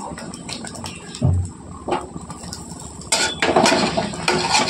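Cooked rice being stirred into egg in a pan for homemade chicken fried rice: a utensil clinks and scrapes against the metal in uneven bursts, with louder clattering toward the end.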